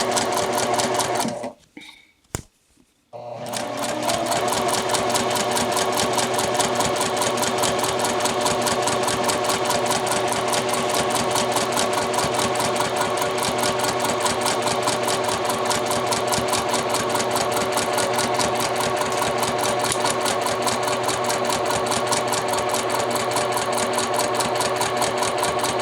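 A sewing machine runs steadily while stitching a two-piece shirt collar, its needle keeping a fast, even mechanical hum for over twenty seconds after a short pause at the start.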